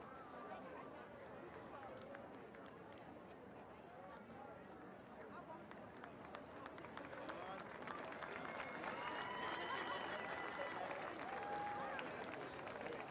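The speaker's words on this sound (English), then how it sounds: "We applaud you." Applause from the crowd at the 2023 Nebraska Class B high school softball championship ceremony, a broad steady wash of clapping across the whole stretch that swells slightly louder toward the end.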